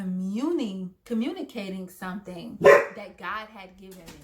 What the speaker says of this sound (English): That's my dog, guys. So sorry.